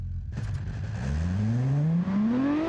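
Rear-engine super SUV revving in the Automation car game, a loud engine note that rises steadily as the vehicle accelerates down the test track, heard alone without speech.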